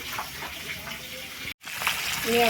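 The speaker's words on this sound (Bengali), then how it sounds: "ৰঙা ৰঙা হোৱালৈকে মাছখিনি ভাজি" Rohu fish pieces fry in hot oil with a steady hiss and crackle that runs throughout, briefly dropping out once before returning louder, with faint voices in the background.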